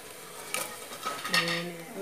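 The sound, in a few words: cloves and cinnamon frying in oil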